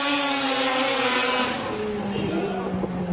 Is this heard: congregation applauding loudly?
no